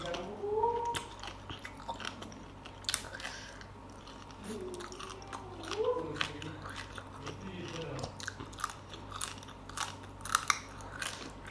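Crunchy spicy Thai lotus stem salad with blue crab being chewed up close, with repeated crisp bites and crunches throughout and a voice speaking intermittently between mouthfuls.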